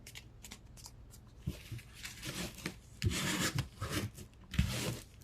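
Paper circles for a heart-shaped gift box are folded in half, giving soft, close rustling and crinkling with a few sharper creases pressed down, quiet and intermittent with no talking.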